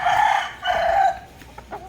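A rooster crows loudly and close by, two drawn-out calls in quick succession, followed by a few softer clucks and rustling.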